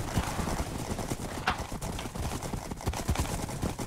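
Minecraft horse hooves gallop in a fast, continuous clip-clop, moderately close and fairly quiet, with a faint whinny-like rise partway through.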